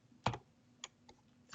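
Keystrokes on a computer keyboard while drawing is converted to a spline in design software: one loud clustered tap, then a few fainter isolated presses spaced out over a quiet background.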